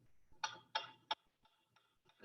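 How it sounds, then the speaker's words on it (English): A ticking metronome used as a conditioning stimulus beside a dog awaiting food: three sharp clicks at a steady interval, then fainter ticks continuing, close and clear with no talk over them. "A ticking metronome."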